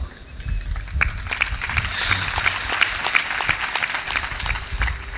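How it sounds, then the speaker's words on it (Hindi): Audience applause at a spiritual discourse, a crowd clapping steadily at moderate volume with scattered louder claps for several seconds. "थोड़ा ताली तेज बजाए करो"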